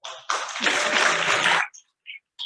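A crowd at a service breaks into a round of applause for the volunteers, a dense burst of clapping that swells quickly, holds steady for over a second, then cuts off, leaving a few faint scattered sounds.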